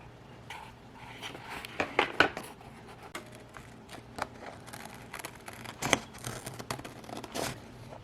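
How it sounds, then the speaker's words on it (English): Scissors cut printed paper product labels in a series of irregular snips and scrapes, close and fairly clear, with paper rustling between cuts and no voices. "I am going to just take a pair of scissors,"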